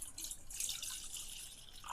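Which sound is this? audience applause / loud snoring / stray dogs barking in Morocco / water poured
water poured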